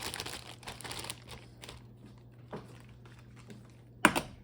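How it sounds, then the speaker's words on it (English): A whole bag of frozen peas tipped into a cooking pot, heard as crinkling plastic and a loose rattling patter of hard peas during the first second, then quieter rustles and a sharp crackle near the end. "let's add a whole bag of frozen peas."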